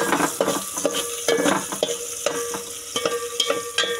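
Chicken roasts in a pan for a Marathi dish, with a steady sizzle broken by repeated close scrapes and knocks of stirring.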